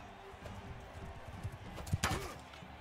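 Horse hooves clip-clop in Mount & Blade II: Bannerlord, a quick irregular patter of steps under game ambience, with a sharper clatter of impacts near the end.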